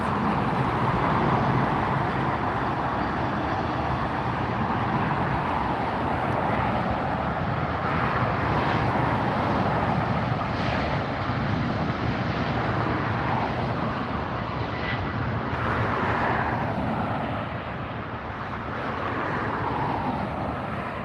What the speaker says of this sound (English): Here goes another Southwest.